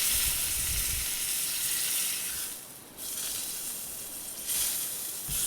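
Sesame-crusted tuna ends sear in a hot pan, a loud, steady, close hiss and sizzle that runs almost continuously, dipping briefly twice before rising again.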